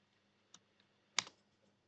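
A few sparse keystrokes on a computer keyboard, one faint click followed by a sharper, louder tap, close up in an otherwise quiet room.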